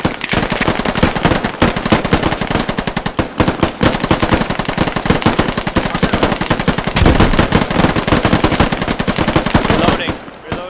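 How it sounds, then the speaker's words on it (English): Sustained automatic suppressing fire in a tactical shooter video game, loud, dense and continuous for about ten seconds with only brief gaps, close to the listener. "Bravo team, suppressing fire"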